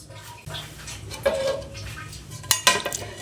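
Utensils clink and scrape against a pot while vegetable khichuri is served, with a few sharper metallic knocks toward the end over a low background hum.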